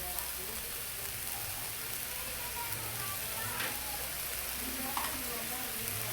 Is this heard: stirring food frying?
yes